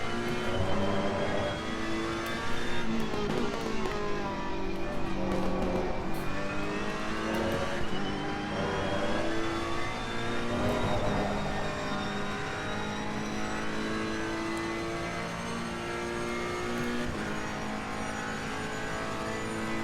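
A race car engine in the racing game Assetto Corsa Competizione, holding high revs with its pitch rising and dipping through shifts, steady and prominent for the whole stretch with no talking.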